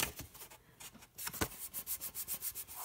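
Fingers rubbing and burnishing paper wrapped around a tin, heard close up as soft, dry rubbing strokes that settle into a steady rhythmic swish, with no voices.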